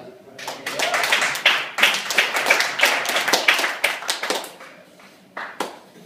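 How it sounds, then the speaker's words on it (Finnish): A bar audience at a comedy show claps, a close burst of many individual hand claps that swells and then thins out into scattered final claps. "aplodit Vertaselle"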